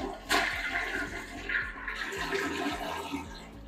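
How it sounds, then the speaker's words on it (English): A toilet without power assist flushes: a sharp lever click, then a steady rushing, gurgling swirl of draining water that continues loudly and alone throughout. "let's look at the flush on this one"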